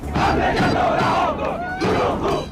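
A large, enthusiastic crowd at a protest rally in Iran roars and chants together, a dense, loud wall of massed voices that swells in waves throughout.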